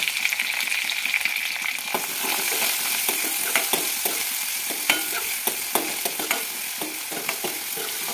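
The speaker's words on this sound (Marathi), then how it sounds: "कांदा थोडासा परतायचं" Onion and garlic sauté in hot oil in a pan for a spiced cabbage dish, a steady bright sizzle punctuated by the scrape and tap of stirring, with no talking.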